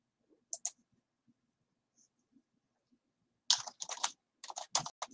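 Password being typed on a computer keyboard: a few isolated taps, then a dense run of quick keystroke clicks in two bursts, fairly close and clear with no talking.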